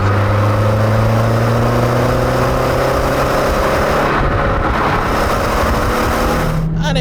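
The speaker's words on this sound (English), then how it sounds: "let's get it on the open road and let's see what the turbo can do" A 1987 Renault 5 GT Turbo accelerates hard on an open road, its engine droning loud and steady with rising pitch through the gear, heard close from inside the car with wind rush.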